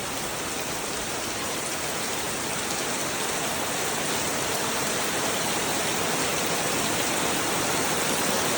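Heavy morning rain pours down in a steady, dense hiss that stays constant and loud throughout, with no voices over it.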